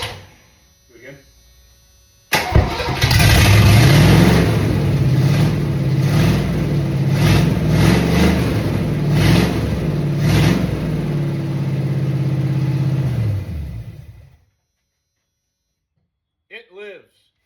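A car engine cranks and catches, then roars loudly and revs up and down for about twelve seconds before cutting off abruptly, with brief voices before and after.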